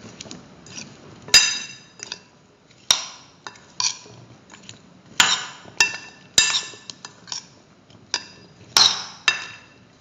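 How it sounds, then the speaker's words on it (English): A spoon clinks and scrapes against a metal or glass bowl while baby potatoes and broccoli are tossed with mustard paste, giving a string of sharp, ringing knocks at an uneven pace, close and clear. "Mix the mustard paste with the baby potatoes and the broccoli."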